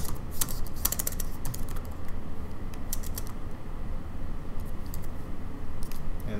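Code is typed on a computer keyboard in quick, irregular bursts of sharp clicks and taps, near and fairly loud, with no voice.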